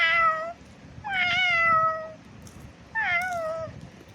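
A person mimics a cat with three clear, close meows, the middle one longest, separated by short pauses over a quiet background hiss.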